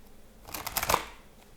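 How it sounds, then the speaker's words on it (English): Tarot cards shuffled by hand, a quick riffle of crisp papery flutters building to a louder snap, close and alone for about a second. "one more shuffle."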